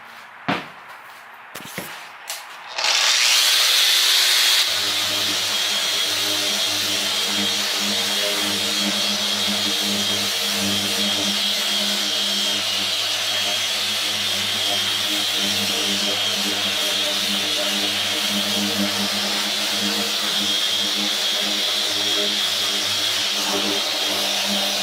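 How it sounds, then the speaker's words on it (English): Power tool dressing the edge of a jetboat deck board, which starts after a few handling knocks and then runs as a loud, steady motor whine and buzz for the rest of the clip. "I'm gonna dress this edge."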